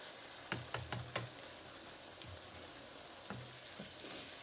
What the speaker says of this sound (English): So just make sure that you keep stirring it so that all of it goes brown.